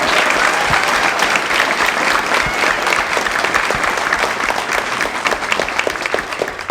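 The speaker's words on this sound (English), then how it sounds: "let's give one more big round of applause for all the awardees" A dense crowd claps loudly and continuously for awardees at a Board of Education regular meeting, the rapid applause holding strong for nearly seven seconds before easing slightly at the end.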